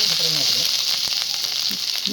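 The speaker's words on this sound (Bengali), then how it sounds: "থেতো করে রাখা আদাটা দিয়ে দিলাম। তো লাল লাল করে হালকা ভেজে" Crushed ginger fries in a pan for a taro lentil dal, a loud, close, steady hiss of sizzling oil with a few faint stirring knocks.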